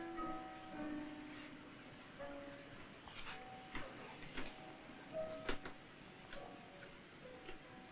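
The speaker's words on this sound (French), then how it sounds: "Une horloge, on a l'impression qu'il y a une âme à l'intérieur" A household pendulum clock ticks indoors in a steady, even rhythm, the sharp ticks close and fairly distinct over a low room hum with faint tonal background sound.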